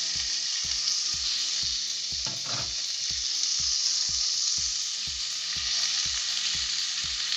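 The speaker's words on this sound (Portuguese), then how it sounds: "fritar esse bacon" Bacon fries in a very hot pan for carbonara, a loud, constant crackling sizzle over a steady pulse of regular low thumps, without any voices.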